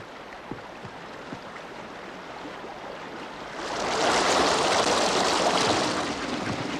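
Water let loose through a village mill after a stormy night, a low steady trickle swelling suddenly into a loud rushing flow that keeps going.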